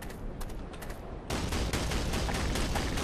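Tank cannon and gunfire in the video game Black Mesa: a dense, noisy barrage that swells sharply partway through and stays loud and continuous to the end.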